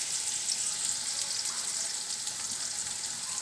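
Onions frying in hot oil in a pan on a stove for egg and chicken curry, a steady, soft, even sizzling hiss with no talking.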